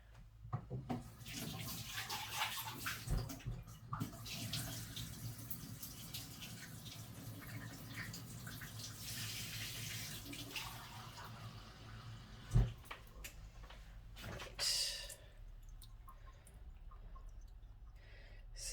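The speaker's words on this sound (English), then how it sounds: "I'm just going to get a bit more water and just add just a little bit more water to this." Water is poured from a tap or container into a yarn dye bath holding roving and citric acid, a steady splashing flow through most of the clip with a brief clunk near the end, no talking.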